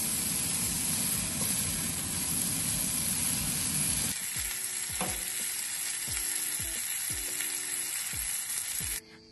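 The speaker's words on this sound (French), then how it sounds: "tu vas prendre tes petits chorizo comme ça avec ta pince et tu viens les griller sur ta petite plancha" Small chorizo sausages sizzle loudly on a plancha over a Masterbuilt 545 AutoIgnite charcoal barbecue, a dense, steady frying hiss that eases slightly after a few seconds and is broken by a series of regular light clicks. No voices are heard.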